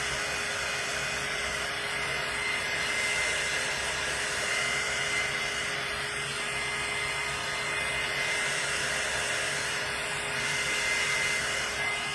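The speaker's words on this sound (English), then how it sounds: "When you have this dryer, it doesn't take long to dry at all" A hair dryer runs continuously at close range, a steady loud whirring blow with a faint constant whine, unchanging for about twelve seconds with no voices.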